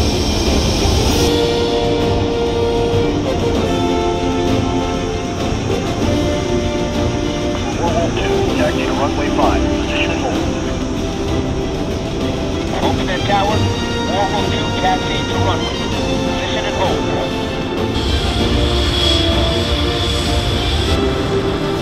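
A jet aircraft engine drones steadily as a military plane taxis in a video game, with a constant loud whine and rumble throughout and radio talk over it.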